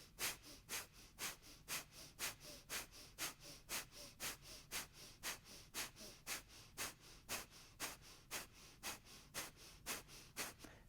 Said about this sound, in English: let's start with some Kapalabhati breathing